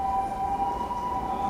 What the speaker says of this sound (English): Why do I hear ambulances everywhere?